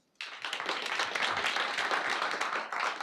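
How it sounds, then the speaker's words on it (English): A small audience at an SF Python meetup breaks into applause for a speaker after a brief silent start, steady moderate clapping that stays fairly quiet and continuous. "let's give a round of applause to Raul"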